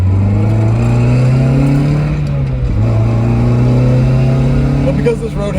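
An NB Mazda Miata fitted with an IRP short shifter pulls through its gears on a winding road. The engine drone is loud and close, rising in pitch, then dipping briefly at each shift before climbing again. A voice talks over it.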